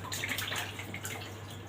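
Water drips and trickles steadily as it drains off salted mackerel fish, a close, continuous splashing over a low background hum.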